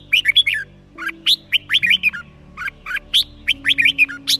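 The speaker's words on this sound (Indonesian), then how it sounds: "suara merbah jambul dikenal memiliki karakter yang tajam, jernih mengkristal dengan irama besetan atau tembakan yang rapat" Red-whiskered bulbul singing alone, a rapid run of sharp, clear, crystalline chirps and whistled phrases in tight bursts, close and fairly loud over a low steady background hum.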